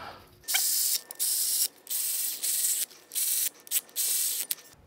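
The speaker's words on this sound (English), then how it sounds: "I'll bottom them out with the ratchet and then we'll go ahead and torque these to spec." A hand ratchet clicks in rapid bursts while bottoming out flange bolts during clutch and flywheel work on a BMW E46, about seven close, loud runs of ratcheting separated by short pauses.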